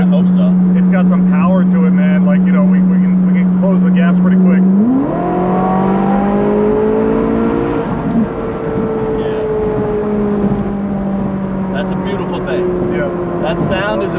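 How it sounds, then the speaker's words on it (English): A Ferrari 458 Italia Spider's engine drones steadily at idle, then revs up and climbs through the gears with a loud, sweeping exhaust note that holds high as it pulls away, with voices in the background. "There's nothing like the sound of a Ferrari."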